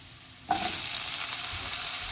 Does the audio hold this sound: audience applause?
no